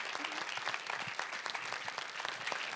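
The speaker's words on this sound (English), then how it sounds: "Give her a round of applause" Steady applause from a seated audience at a talk with attorney Gloria Allred, a dense, even patter of many hands that holds fairly loud for the whole stretch.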